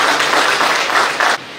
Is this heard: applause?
yes